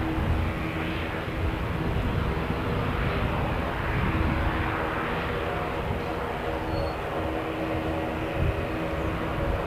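A light Aero Club aircraft on approach to an airport's main runway, a steady, loud engine drone with constant rumble that holds for the whole stretch without breaks.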